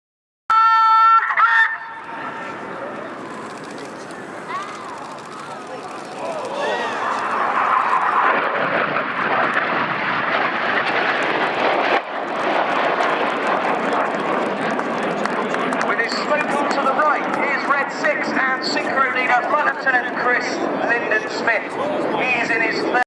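Red Arrows jets roar past at an air show at Yeovilton, a broad rushing engine noise that swells and stays loud for many seconds, with a loudspeaker voice and crowd sounds mixed in.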